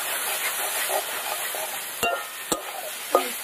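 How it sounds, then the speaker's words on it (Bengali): Mutton seasoned with salt, turmeric, coriander powder and ginger paste sautés in a pan with a steady, close hiss, broken by a few sharp knocks of a utensil against the pot, no talk. "এবার এর মধ্যে মশলা দিব লবণ, হলুদ, ধনে গুঁড়ো, সব কিছু দিয়ে এবার ভালো করে একটু কষিয়ে নিতে হবে।"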